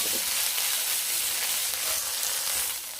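Bracken fern stir-frying in perilla oil over high heat, a steady loud sizzle and hiss close by with a faint stirring scrape, no voices.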